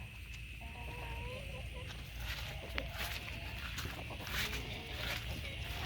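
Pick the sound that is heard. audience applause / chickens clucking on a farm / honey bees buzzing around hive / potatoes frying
chickens clucking on a farm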